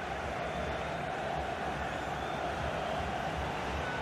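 A football stadium crowd in Gothenburg, a steady dense roar of many voices urging a player to shoot, continuous and fairly loud with no single voice standing out.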